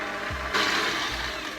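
Electric mixer whipping chocolate cupcake batter with milk, a steady close motor whir with a brief low bump near the start and a brighter, louder stretch through the middle.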